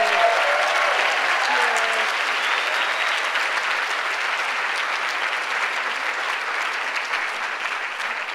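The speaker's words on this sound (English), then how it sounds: "Please give a round of applause to everyone that attended." Sustained, loud applause from a conference audience at a queer comics event, dense and steady from start to finish with no pause.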